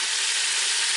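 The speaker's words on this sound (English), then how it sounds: "I'm just going to move it around and get this steak searing up" Steak searing in an Instant Pot set to high saute, a steady, bright, loud sizzle with no pauses.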